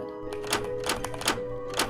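Typewriter keys clack in Roblox DOORS, a handful of sharp, evenly spaced mechanical strikes repeating about every 0.4 seconds over low background hum, with no talking.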